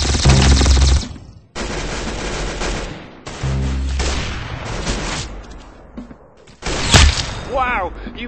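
Rapid gunfire bursts from the shooting video game Arsenal crackle in loud automatic volleys separated by brief pauses, with game sound effects mixed in.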